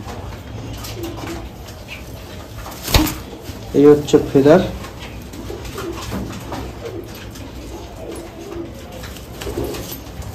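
Pigeons coo close by in short throaty bursts while someone talks nearby over a soft background murmur.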